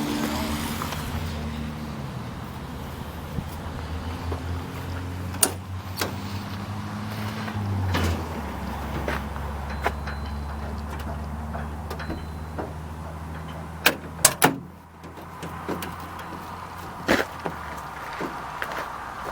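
A truck door being locked and then opened, with a mechanical whir, a few sharp clunks and latch clicks over a low idling hum.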